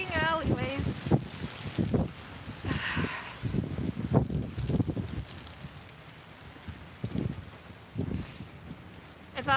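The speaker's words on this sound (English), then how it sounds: "If I'm lucky and I can hold on to this umbrella, maybe I can get Mary Poppined by the wind today." Gusty wind buffets the microphone outdoors on a city walk past alleyways, rumbling in uneven low bursts across the whole stretch while a person talks over it.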